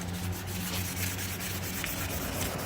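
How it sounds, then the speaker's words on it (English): Steady, continuous rubbing of 800 grit wet/dry sandpaper against sun-baked weathered plastic, a close, even abrasive hiss with faint rhythmic strokes and a low hum underneath. "now I'm going to use 800 grit sandpaper on this."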